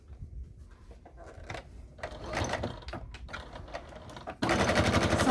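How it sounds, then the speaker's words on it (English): A sewing machine top stitches a pair of fabric slippers, its needle chattering in short uneven bursts, then running steadily and louder toward the end. "We're going to top stitch across the top, and then we're going to top stitch around the curve"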